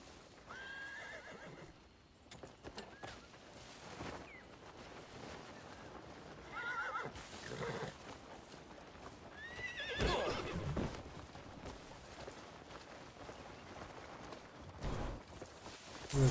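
Horse in the game Crimson Desert neighing and whinnying with clip-clopping hooves, several calls spread across the stretch over a steady outdoor backdrop, fairly close and moderately loud.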